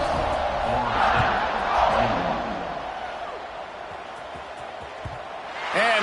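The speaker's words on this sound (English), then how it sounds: "this crowd is buzzing after that last score" A stadium crowd in the college football game NCAA 26 buzzes with a broad, steady roar that swells and eases, rising again at the end.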